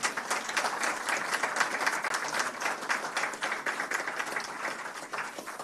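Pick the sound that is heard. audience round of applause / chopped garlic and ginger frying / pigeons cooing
audience round of applause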